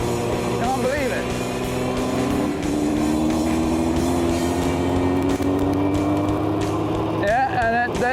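A 25-year-old Dawson Motor Company vehicle's engine runs steadily with a rising hum as revs climb, close and continuous, with people talking over it.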